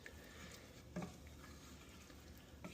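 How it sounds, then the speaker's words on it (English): Rice with green peas and water being stirred in a pot: a quiet, steady scraping swirl with one soft knock near the middle and no voices. "give it a good mix now, just so the whole thing is"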